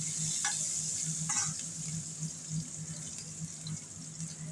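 Chopped garlic sizzles in a pan, a steady close frying crackle with a couple of brief clinks and stirring sounds on top.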